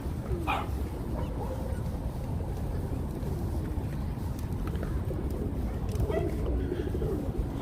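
Pigeons in a busy city park on New York's Upper East Side coo softly among constant outdoor crowd and traffic noise, with a few faint bird calls rising briefly above the steady wash.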